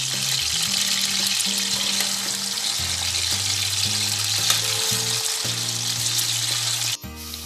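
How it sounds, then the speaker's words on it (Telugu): Chicken pieces fry in a pan, a steady broad sizzle running nearly unbroken for about seven seconds, loud and close. Low tonal hum sits underneath, and the sound drops away abruptly near the end. "చికెన్ వీటిని బాగా ఫ్రై చేసుకోవాలండి. ఈ ముక్కల్ని ఎంత ఫ్రై అయితే అంత టేస్ట్గా ఉంటుంది."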